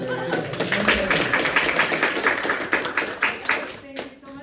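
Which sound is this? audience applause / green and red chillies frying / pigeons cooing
audience applause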